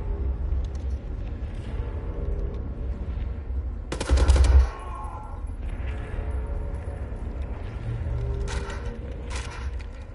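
Rapid machine gun fire in the Wolfenstein video game on PS4 in Über mode, with a loud, sharp burst around the middle standing out over steady ongoing gameplay noise and scattered shots.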